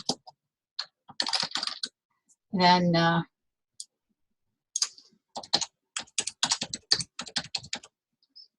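Rapid clicking of keys on a computer keyboard in quick bursts, close by, with a brief spoken word and short pauses between runs of typing.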